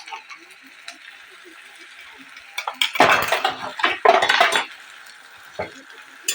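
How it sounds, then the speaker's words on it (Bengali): Spoon scraping and clinking in a pan as ginger-garlic paste is stirred into fried chillies, with a louder burst of clatter in the middle and quieter stirring before and after, no talk. "আর এখানে দিয়ে দেব আদা রসুনের পেস্ট 2 চামচ।"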